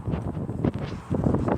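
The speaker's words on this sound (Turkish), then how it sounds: "Oh, rüzgar çok esiyor." Strong wind buffets the microphone in a steady low rumble with gusty swells, loud and close, with no voices.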